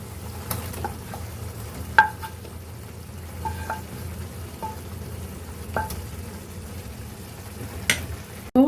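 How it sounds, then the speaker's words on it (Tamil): Mushroom masala being stirred into a pan of simmering gravy, with a steady soft bubbling and sizzle underneath and occasional sharp clinks of the spoon against the pan. "இந்த மஷ்ரூம் மசாலாவை இதில் இப்போ சேர்த்துடலாம்"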